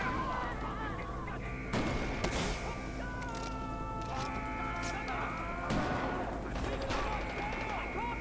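Loud gunfire cracks out in a sharp burst at about two seconds and again near six seconds in a Far Cry 4 co-op firefight with a sniper, over a constant game soundscape of drones and tones, while people talk.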